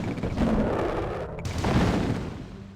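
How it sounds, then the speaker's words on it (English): SAM sites launching in Command & Conquer Tiberian Sun: a dense cluster of loud, overlapping booming shots and bursts, close and continuous for a few seconds. "Here's like the SAM sites in action."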